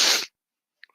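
One sharp sneeze bursts out close by on a chilly night outdoors, then cuts off into near silence with only a couple of tiny clicks.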